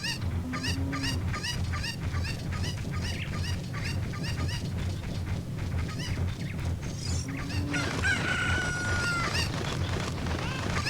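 Chirpy, repeated clucks from the cuckoo chickens in Zelda: Ocarina of Time's Kakariko Village, a dense run of bird calls over steady game music, ending in a longer squawk.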